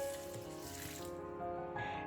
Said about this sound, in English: Rinse the chickpeas in clear running water, pat dry and set aside.